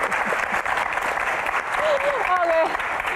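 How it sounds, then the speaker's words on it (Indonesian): Brief applause from a comedy Q&A audience at a stand-up show, moderately loud under talking, with a short whistle-like tone near the end. "Oke, tepuk tangan."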